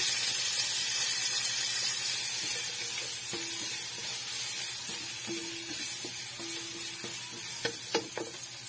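Onion and garlic fry in a pan with a continuous moderate sizzle and hiss, joined later by a few brief clicks and tonal squeaks from utensils against the pan.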